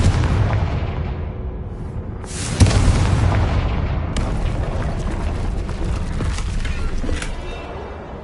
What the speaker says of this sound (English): We can blast through it, I'm certain.